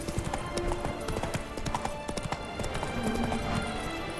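Roach the horse gallops in The Witcher 3 video game, a steady rapid clip-clop of hooves thudding on the ground throughout, fairly close and continuous with ambient game sound beneath.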